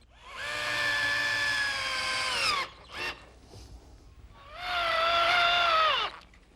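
A power drill drives screws to fit swivel casters onto a wooden trundle bed, in two close whining bursts a couple of seconds each whose pitch rises as the motor spins up and falls as it stops.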